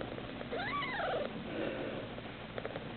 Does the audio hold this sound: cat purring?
yes